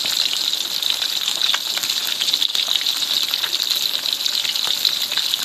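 Steady, loud hissing and crackling of fish frying in hot oil, continuous and close throughout with no voices.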